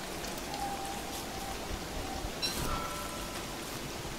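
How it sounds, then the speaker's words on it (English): Steady, loud rainfall from the video game Don't Starve hisses evenly throughout with a faint tone in the background and no talking. "Oh God, that rain's loud."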